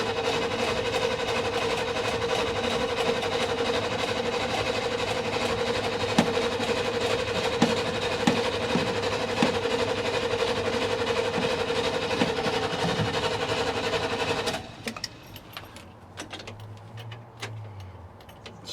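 A 1987 Chevy square body pickup engine is cranked on fresh gas from a tank, a steady churning drone with faint ticking running for about fifteen seconds before it cuts off, leaving quieter shuffling and a brief low hum.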